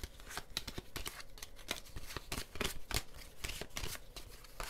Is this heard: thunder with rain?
no